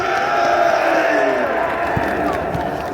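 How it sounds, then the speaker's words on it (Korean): Large outdoor rally crowd in Gwanghwamun, Seoul, with dense, loud applause and cheering washing over the whole stretch, steady and close. "우리 이정민 차관님께도 감사의 박수를 보내주시기 바랍니다."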